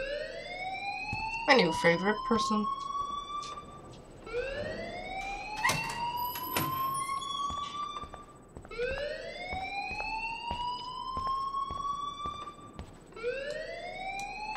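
A fire alarm rings in the video game Life is Strange, sounding as repeated rising electronic whoops that loop over and over at steady volume, with a voice speaking briefly over them.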